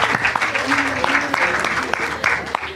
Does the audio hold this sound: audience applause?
yes